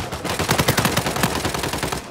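Rapid bursts of machine pistol fire in Uncharted 4 multiplayer, with loud, close, evenly spaced shots rattling off in quick succession for the whole stretch.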